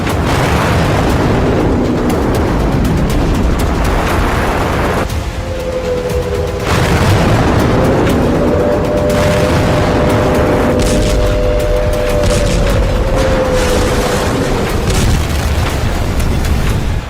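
Bomb blasts in Damascus, Syria, in news footage: a loud, continuous roar of booming and rumbling that lasts throughout, with a low tonal drone rising partway through.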